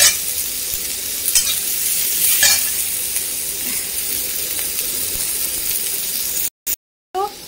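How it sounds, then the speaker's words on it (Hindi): Onions fry in a pan for a potato paratha meal, a steady broadband sizzle with scraping stirs and a few clinks, close and continuous, briefly cut out near the end. "इसको भी अच्छे से फ्राई कर लूंगी और इसको भी थोड़ा सा थोड़ी देर तक पकने दूंगी"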